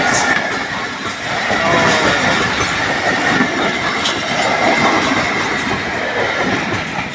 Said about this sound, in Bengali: খুব দ্রুত বেগে আসছে রেল, এত বেগে আসছে শব্দই অবস্থা খারাপ।